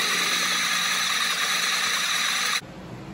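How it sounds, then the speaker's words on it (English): A drill bores a hole into a damaged snow plow cylinder, producing a loud steady whining drone close by that cuts off abruptly near the end, leaving a faint hum. "keep drilling until I get it big enough to put a punch inside"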